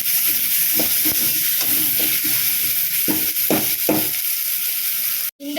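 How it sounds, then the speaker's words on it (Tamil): Tomato, onion and ginger garlic paste sautéing in a pan for egg chukka make a continuous hissing sizzle with several scraping stirs, ending in a sudden sharp clatter. "இந்த ஸ்டேஜில் இஞ்சி பூண்டு பேஸ்ட்டு சேர்த்துக்கலாம் சேர்த்து நல்லா வதக்கி விட்டுக்கலாம்"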